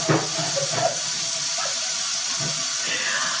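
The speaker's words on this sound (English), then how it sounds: "Our kitten just turned on the kitchen sink." A kitchen sink faucet, turned on by a kitten, runs steadily with a loud, constant hiss of flowing water, with faint indistinct sounds underneath.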